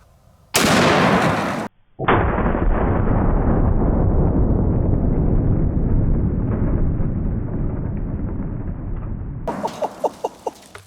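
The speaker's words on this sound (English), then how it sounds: "Let's shoot it one more time." A .470 Nitro Express elephant rifle fired outdoors: one sharp, very loud blast, followed by a long, dense roar that slowly fades and ends in a few faint clicks.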